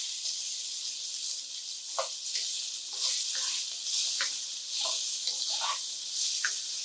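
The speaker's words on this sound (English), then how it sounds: "the next thing we do is we saute the red pepper" Red pepper sautés in oil in a pan with a constant airy sizzle, dotted with small crackles and pops at uneven intervals, close and alone.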